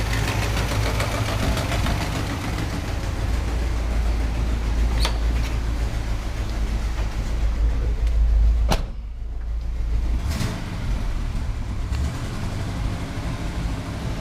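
A 1981 Chevy C30 shop truck engine runs steadily up close with a constant low rumble and slight knocking texture, its pitch rising briefly near the end as it is revved, then settling back.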